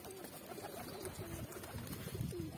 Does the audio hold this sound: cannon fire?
no